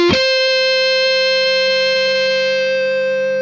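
A single note or chord rings out on an Epiphone Evolution Explorer E-Series electric guitar played through the neck pickup, struck sharply and sustaining loudly with a long, slowly fading tail.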